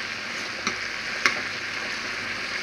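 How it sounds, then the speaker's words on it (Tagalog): Garlic sizzling in a frying pan for spinach pasta, a steady hiss of frying with a couple of faint ticks as it is stirred, alone without talk. "Ilalagay din natin yung garlic."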